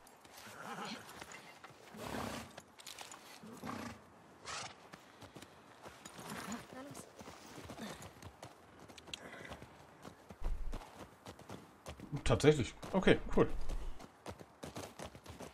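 Horses galloping in The Last of Us Part 2, a rhythmic clip-clop of hooves running steadily under game ambience, with someone talking over it in places.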